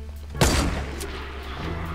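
A single loud gunshot burst from a weapon in the video game Fortnite, a sharp broadband crack followed by a short decaying rumble, with faint game ambience continuing afterward.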